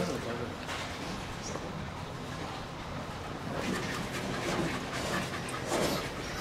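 Dogs panting close by in a continuous, breathy rhythm, with people talking intermittently over the top and faint outdoor background noise.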